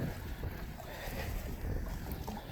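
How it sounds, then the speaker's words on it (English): Strong wind on the Edgartown waterfront buffets the microphone with a continuous, loud, rumbling roar that swells and eases slightly, with no one speaking. "The wind is really strong."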